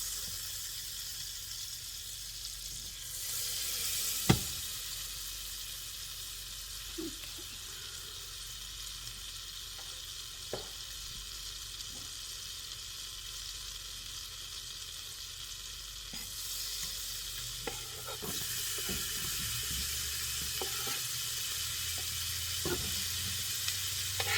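Onions fry in melted butter in a pan, a steady soft sizzle running throughout with occasional clicks and taps of a utensil, close but fairly quiet, no talking.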